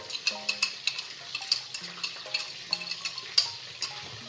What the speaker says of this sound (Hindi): अब मैं बड़ा बर्तन ले लूँगा और इसमें दही शामिल कर लूँगा